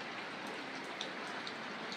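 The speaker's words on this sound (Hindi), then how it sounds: "अभी मैं बाहर निकलने वाला था और बारिश स्टार्ट हो गया।" Steady rain pours outdoors at a ghat in Patna under dark storm clouds, a dense continuous hiss with scattered brighter drop patters, fairly loud and with no voices.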